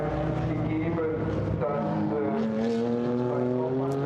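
GT4 race cars thunder past at the Nürburgring in the GT4 European Series, engines howling with rising and falling pitch as they pass nearby, under a commentator talking throughout.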